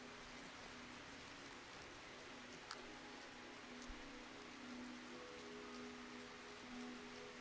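Steady rain falling over the countryside in the video game Oblivion, a continuous even hiss of drops with soft flute and string music faintly underneath.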